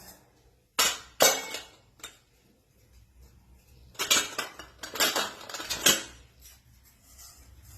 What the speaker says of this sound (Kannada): ಸಾಸಿವೆ ಜೀರಿಗೆ ಎಲ್ಲ ಹಾಕಿದ್ರೆ ಚಟಪಟ ಅಂತ ಇದೆ